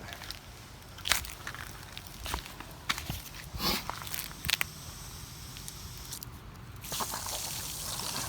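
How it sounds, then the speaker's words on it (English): Garden hose running water into a garden bed, a faint steady trickle and spatter with occasional drips and footsteps nearby. "I think I'm going to turn on the hose into here"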